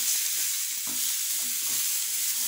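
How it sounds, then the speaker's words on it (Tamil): Small chopped tomatoes with ginger, garlic and shallots sauté in a pan for a paneer gravy, a steady bright sizzle with soft stirring scrapes underneath. "அதை போட்டு வதக்கணும்."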